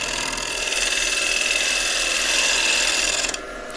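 A scraper is drawn across the surface of a spinning live edge oak bowl on a wood lathe, giving a continuous, close, hissing rasp that holds steady and then drops off abruptly near the end.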